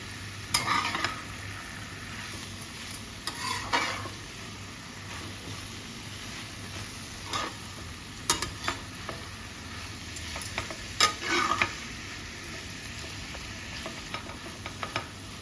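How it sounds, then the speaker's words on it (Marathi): Dried javla shrimp stir in a pan over low gas. A soft, steady sizzle runs throughout, broken by light scrapes and taps of the stirring spoon at irregular intervals. No one speaks. "हलक्या हाताने आपण तो जवळा हलवायचा आहे"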